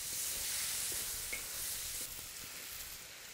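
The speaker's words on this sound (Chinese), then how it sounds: "把这个水分炒干就行" Pork belly sizzling in a wok as it is stir-fried until the liquid cooks off, giving a steady, close hiss with faint scraping and no speech.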